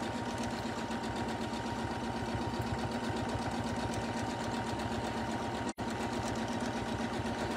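Janome M17 sewing machine stitching free motion quilted feathers, a fast, steady mechanical needle rhythm running continuously and close, broken only by a brief pause near the end.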